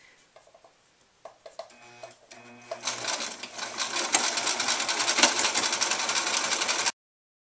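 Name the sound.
sewing machine stitching fabric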